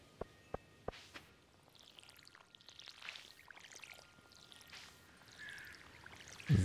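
Watering crops with a watering can in Stardew Valley: three sharp clicks at the start, then soft, repeated sprinkling and pouring splashes at a moderate level, ending in a louder burst.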